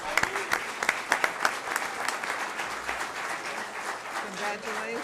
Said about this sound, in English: Okay, one more round of applause as they exit the floor.